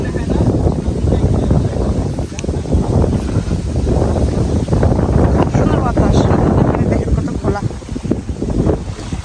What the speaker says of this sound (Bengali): কত সুন্দর বাতাস নদীর পাড়ে